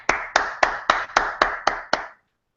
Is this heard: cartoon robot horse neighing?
no